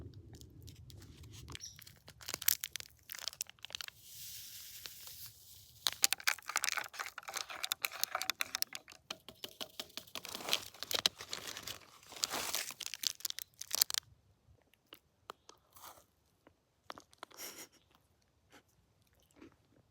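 Spam from a backpacking meal on the Appalachian Trail is eaten: close, quiet crinkling of packaging and irregular wet chewing and biting sounds with pauses between them, no speech.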